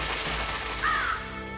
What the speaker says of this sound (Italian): Mi sembra di sentire un corvo